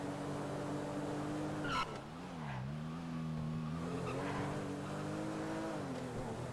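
A car in a roleplay video game drives with a steady engine drone, its pitch dipping and rising as the tires squeal briefly through a turn, fairly quiet throughout.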